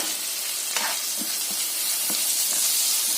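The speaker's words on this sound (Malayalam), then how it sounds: "പ്രോൺ റോസ്റ്റിനുള്ള ഉള്ളിയും ജിഞ്ചർ ഇതൊക്കെ ഫ്രൈ" Onion and ginger frying in oil for prawn roast: a steady bright sizzle with a few soft stirring knocks, moderately close and uninterrupted by talk.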